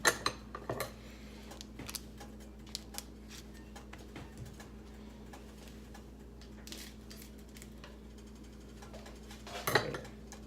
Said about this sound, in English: They come in these little packets and you're just going to open them up and dump them in.